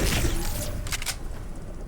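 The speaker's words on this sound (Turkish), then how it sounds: "Bir yerde silah sesi var." Gunfire in the video game Fortnite: a couple of quick, faint shots crack in the distance against a steady bed of game ambience, with no talking.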